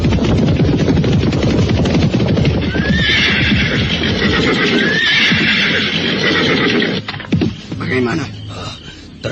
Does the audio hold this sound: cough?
no